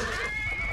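A horse in Chivalry 2 gives a short, steady high neigh that lasts under a second, loud and close against a dense, noisy battle backdrop.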